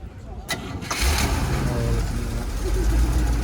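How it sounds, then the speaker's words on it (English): A Corvette V8 cranks with a couple of sharp clicks, then catches and settles into a low, steady rumbling idle at a car show outdoors. "No fuss about starting it. No. Beautiful. V8 rumble."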